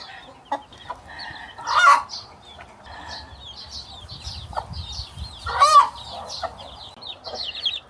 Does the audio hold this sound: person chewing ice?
no